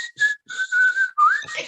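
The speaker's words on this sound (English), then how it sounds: "I can whistle and it doesn't look like I'm whistling." A person whistles a short tune of a few sustained notes with brief gaps and a rising slide, close and clear with no talking over it.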